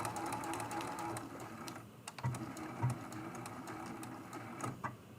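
A sewing machine stitches along the final side of a hexagon mug rug, its steady close, rapid whirring rattle running almost without pause, with a couple of brief stops and restarts near the middle.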